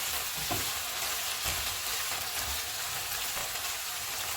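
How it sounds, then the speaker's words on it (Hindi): Chicken pieces fry with garlic in a pan over a full flame, giving a steady, dense sizzle with occasional stirring scrapes, close and continuous with no talking. "चिकन को भूनते हुए हम चूल्हे को फुल रखेंगे।"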